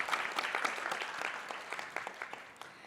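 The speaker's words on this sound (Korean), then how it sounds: "큰 박수 부탁드립니다" An audience at a Korean finance forum panel gives steady applause, a dense wash of clapping that fades slightly toward the end.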